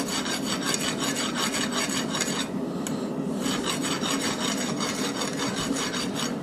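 A steel hammer drift is filed by hand in a rapid run of rhythmic rasping strokes, close and loud, with one brief pause midway before the strokes resume at the same pace, no voices.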